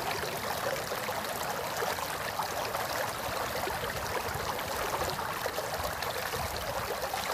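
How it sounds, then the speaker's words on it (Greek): A small river flowing below Agia Marina, a steady broadband rush and trickle of water that stays constant and fairly close, with no voices over it. "Είμαστε σε ένα ποταμάκι που είναι κάτω την Αγία Μαρίνα"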